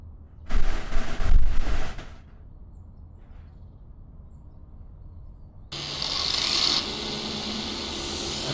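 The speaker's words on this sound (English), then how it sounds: "Remove rust with a grinder." A grinder strips rust in a simulation video game, starting with a loud, harsh burst that stops, then a low hum, then a steady bright whirring grind that holds on at moderate volume, without voices.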